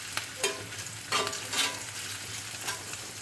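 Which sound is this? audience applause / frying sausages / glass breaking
frying sausages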